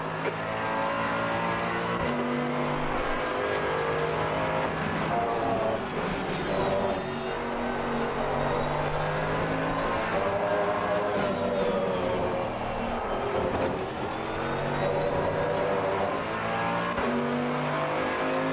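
Howling V12 GT2 race car engine in Assetto Corsa Competizione, a steady loud drone rising and falling through gear changes at speed, close and continuous across the whole stretch, with faint tire noise.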